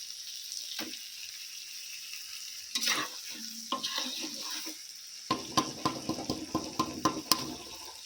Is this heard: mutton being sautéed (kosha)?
yes